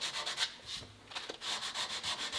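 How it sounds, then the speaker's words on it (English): A sanding block rubs back and forth over a curved wooden rifle stock on a Ruger .44 carbine, making steady rhythmic scratchy strokes with a brief pause midway, close and fairly loud with no talk. "when you're sanding on curved surfaces is you always want to keep the sanding block in motion"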